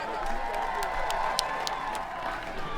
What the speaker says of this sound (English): So please give a round of applause for everybody who came out.